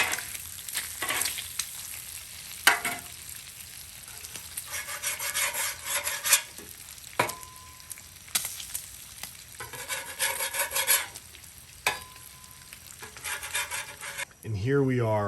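Beef bacon and pancakes cooking on a Blackstone griddle, a steady close sizzle with repeated scraping and rubbing strokes of a spatula across the hot metal surface.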